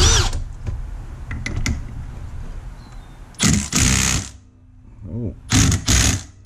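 An impact tool removes the clutch nut on a Yamaha Zuma 125 scooter, firing several loud, rattling bursts up close amid quieter workshop noise and some talking.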